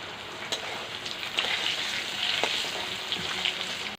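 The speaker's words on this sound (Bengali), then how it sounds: "এই যে আলুগুলো ভেজে তুলবো" Large-cut potato pieces sizzle steadily in hot oil in a pan, a constant crackling hiss with a few sharper pops and the odd stir, no voices.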